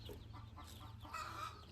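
Chickens and their chicks cluck softly while pecking at watermelon cut into two halves, fed in the shade in summer; brief, fairly faint, continuous low murmuring clucks close by.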